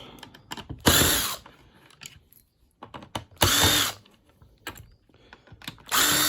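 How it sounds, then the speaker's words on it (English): A power driver takes screws out of a Heatstore Aqua Profile Plus electric shower in three loud whirring bursts, with ratcheting clicks and handling taps between them. "let's take out all the screws that we can see"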